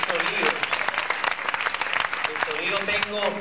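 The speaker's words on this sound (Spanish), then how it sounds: "Un aplauso para ellos." Audience applause with cheering rings out at a 1985 concert in Puerto Rico as band members are introduced, the clapping dense and lively beneath an announcer's voice.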